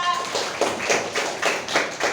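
Schoolchildren in a classroom clapping for a classmate during a quiz, a short rhythmic burst of patterned claps, about five pulses, with voices mixed in.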